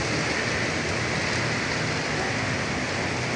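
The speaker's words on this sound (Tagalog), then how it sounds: "Paulan-ulan ka, walang payong." Steady night rain patters continuously with a dense, even hiss, close by, no voices or other sounds over it.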